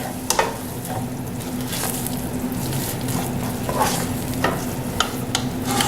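Cottage pie filling stirred in a hot pan, an ongoing soft sizzle broken by repeated scraping and clacking strokes of a spoon against the pan, close and with no speech.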